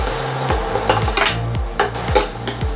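Spoon scraping and clinking against a pan while cream is stirred into palak paneer, in steady repeated strokes roughly every half second, close and clear with no talking.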